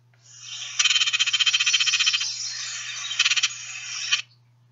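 A Baltimore Oriole gives its chatter call, a dry, rapid rattling run of notes that holds for about four seconds, loud and close, with a quickened burst near the end.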